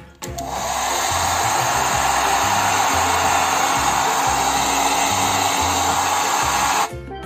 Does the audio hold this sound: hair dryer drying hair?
yes